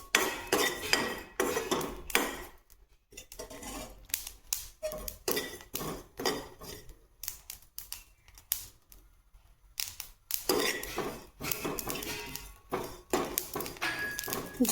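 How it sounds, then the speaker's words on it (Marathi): Sesame and cumin seeds roast dry in a hot kadai, giving bursts of rapid, crisp clicking and scraping with short pauses between them, close and fairly clear, with no talking. "जिरे भाजून घेऊ, पण आपली कढई गरम झाली असल्यामुळं जिरे लगेच भाजून घेऊ"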